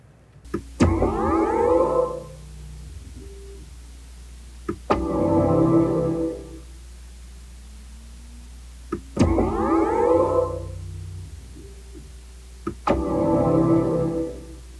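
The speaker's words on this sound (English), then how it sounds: "He also scored the sounds you'll hear in this when I start it up, the i7 from BMW." Start-up chime of a BMW i7 electric car, a swelling synthetic tone composed by Hans Zimmer that rises and fades in four similar phrases, each preceded by a sharp click, heard clearly inside the cabin.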